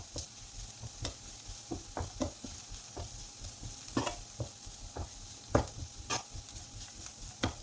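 Turmeric and chili powder sautéed in a pan for a fenugreek-leaf and potato fry: repeated spatula scrapes and taps in an irregular rhythm over a low, continuous sizzle, close and fairly loud.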